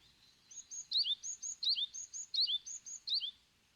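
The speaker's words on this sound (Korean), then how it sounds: "새끼 박새들 울음소리가 커져가는 부도전." Great tit chicks call from a nest in a crevice of a temple wall at Daeheungsa. High, thin chirps repeat in a regular pattern over quiet background noise, with no talk.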